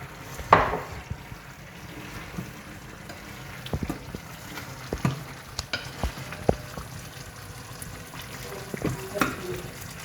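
Coconut oil poured over a dried prawn and jackfruit seed curry with curry leaves, sizzling in a pan with scattered pops and crackles over a low bubbling bed, fairly close.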